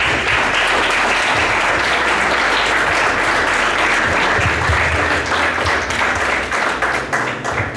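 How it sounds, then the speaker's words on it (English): Sustained audience applause fills the room, dense steady clapping at a constant loud level from start to finish with no talking. "So a round of applause for these two gentlemen."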